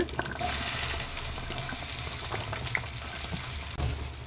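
Okra being added to hot oil with mustard seeds, curry leaves and a broken dried red chilli, giving a steady close sizzle and frying hiss with light stirring scrapes, no talking.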